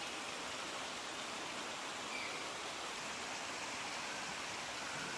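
A monsoon-swollen waterfall beside a road near Panshet dam outside Pune gives off a steady, dense roar of falling water, close and unbroken throughout with no voices.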